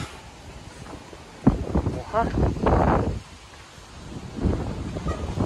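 Steady wind buffets the microphone with gusty rumbling on a mountain resort in Tanay, Philippines, while a person speaks briefly over it.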